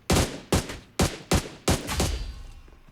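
Gunfire in the mobile battle-royale game PUBG Mobile: five sharp, loud shots at roughly half-second intervals, each with a short decaying tail, the last ringing out into quiet.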